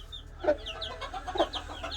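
A rooster's short clucks, two soft calls about a second apart, with faint chirping birds in the background.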